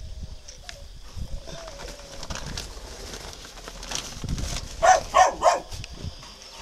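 Spotted dove chicks being fed by their mother give soft, low calls over a quiet background, with a cluster of brighter chirping notes near the end.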